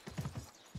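Horse hooves clip-clop faintly in Assassin's Creed Mirage, a few soft, uneven thuds in quick succession with a brief gap before a final step.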